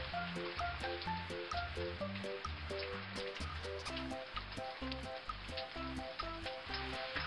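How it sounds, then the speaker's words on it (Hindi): Cartoon rain falling on an island, a steady hiss of rainfall running continuously under a loud, bouncy background music track, with no voices. "एक दिन द्वीप में बारिश होने लगी।"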